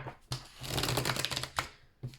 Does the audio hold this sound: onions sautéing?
no